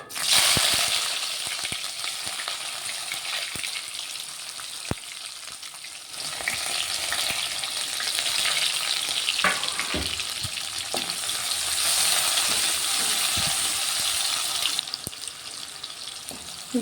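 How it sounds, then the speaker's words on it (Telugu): Chopped onion pieces sizzle loudly in hot oil with cumin, mustard seeds and a dried red chili while preparing a cucumber masala curry, a steady bright crackle with occasional spoon scrapes and clinks throughout. "ఇప్పుడు ఇందులో కట్ చేసుకున్న ఉల్లిగడ్డల ముక్కలు వేసుకుంటాను."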